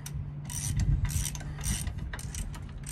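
A ratchet tightens a lug nut onto a wheel stud of a first-generation Nissan Xterra, several quick bursts of clicking pawl close up over a low steady hum, with no talking.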